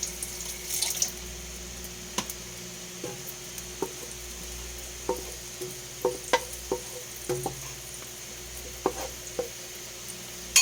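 Beef fries in butter in a reused pan for garlic pepper beef. A soft, low sizzle runs throughout, punctuated by scattered close clicks and scrapes as the meat is stirred and turned.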